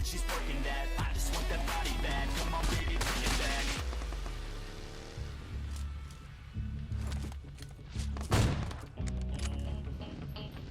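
Gunfire in the mobile battle royale game PUBG Mobile, a dense burst of rapid shots over the first few seconds followed by scattered thuds and sporadic single shots over game sounds.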